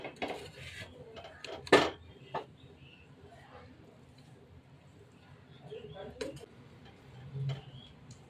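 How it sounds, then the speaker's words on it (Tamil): Kushka biryani is mixed with coriander in a pot: a few sharp spoon clinks and scrapes against the metal, fairly faint, with soft voices in the background. "இதனாலே நம்ம கொத்தமல்லி கொஞ்சம் போட்டுக்கலாம். லைட்டாக நம்ம மிக்ஸ் பண்ணி விடலாம்"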